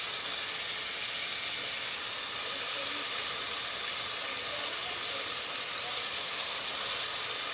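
Sopes, thick fried masa rounds for sopes rojos, frying in hot oil with a steady, dense sizzle and hiss that holds evenly at close range throughout, with no talking.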